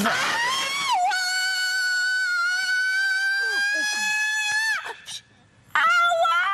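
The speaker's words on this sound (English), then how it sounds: "The poor woman screamed with pain" A woman screams in pain, a long, loud, sustained shriek that breaks off, falls silent for a moment, then resumes in another sharp cry, close and dominant.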